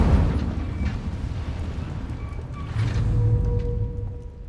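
A fire spell, Incendio, cast in Hogwarts Legacy: a loud roaring burst of flame with a rumbling, crackling body that swells again toward the middle of the clip, heard on its own without talk.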